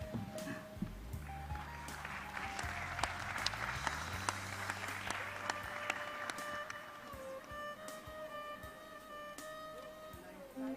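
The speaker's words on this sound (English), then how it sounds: "Of course, yes, I can see the claps out here." Audience clapping at an Indian event on soft power through craft, cuisine and creativity: broad, steady applause runs throughout alongside background music, with a few voices mixed in.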